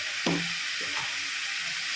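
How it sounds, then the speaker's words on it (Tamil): Tomatoes sautéing in hot oil in a pan for a prawn and crab gravy, giving a steady, bright sizzling hiss with a brief louder spatter as the pieces are stirred. "இப்போது தக்காளி வதங்குது"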